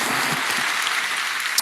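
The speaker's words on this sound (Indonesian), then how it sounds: "berikan tepuk tangan kita untuk Tuhan kita" Church congregation at a Bethany worship service applauding together, a dense steady wash of many hands clapping at moderate volume with no talk over it.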